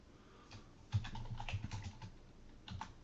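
Soft, quiet keystrokes tap out on a computer keyboard in an irregular run of close clicks, with a brief pause before a final pair of taps.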